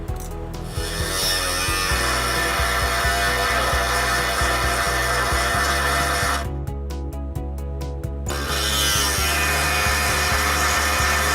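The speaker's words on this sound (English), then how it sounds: "So what we're gonna do is use this saw here. We're gonna make 2 cuts" A saw cutting metal during a hitch installation on a 2017 Hyundai Elantra, loud, close, steady rasping strokes running continuously with a brief quieter gap near the middle before cutting resumes.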